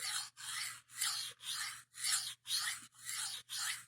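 Knife blade sharpened on a sharpening stone in eight even rhythmic strokes, each a bright, close gritty rasp separated by short silent pauses.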